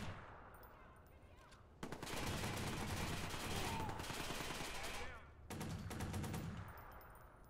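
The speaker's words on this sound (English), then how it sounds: "Listen, that shooting?" Sustained bursts of automatic gunfire in Watch Dogs: Bad Blood, loud and dense for several seconds, dropping briefly before resuming, with quieter rattling shots at the start and end.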